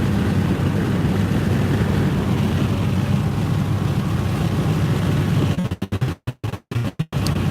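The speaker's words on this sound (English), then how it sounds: "There goes our semi friend." A semi truck passing on a Colorado highway, heard as a loud, continuous broadband rush of road and wind noise from a moving vehicle, breaking into choppy gusts near the end.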